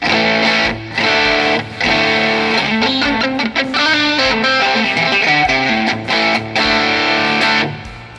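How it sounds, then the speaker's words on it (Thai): Heavily distorted electric guitar through a Zoom G2X Four multi-effects pedal chugging through loud chords with short pauses, up close and filling the whole stretch. "จะเป็นเสียงแตกแบบนั้นเนี่ยเนาะ"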